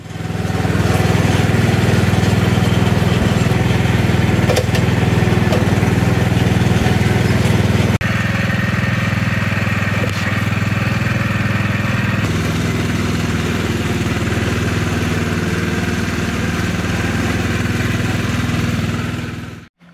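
A riding lawn mower runs steadily for about twenty seconds after its deck has been cleared of packed grass, a loud, close engine drone with a constant low rumble and occasional clattering knocks, cutting off abruptly at the end.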